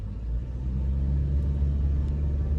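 A Mitsubishi Lancer 1.6 automatic in drive mode accelerates with a steady low engine rumble heard from inside the car, even and unbroken with no voices.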